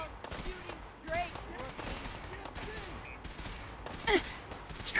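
Ship cannons blast in a naval battle video game aboard the USS Constitution, sending several sharp booming shots in quick irregular succession over game effects and voices.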